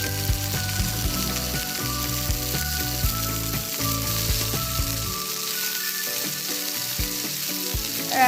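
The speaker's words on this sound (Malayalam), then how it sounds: "ഇതിലേക്ക് നമ്മൾ അരിഞ്ഞ് വെച്ചേക്കുന്ന സവോള, കുറച്ച് ചെറിയ ഉള്ളി," Chopped onions and small shallots frying in a pan for Malabar tapioca (kappa) biryani: a steady, close, loud sizzle running throughout, with music playing underneath.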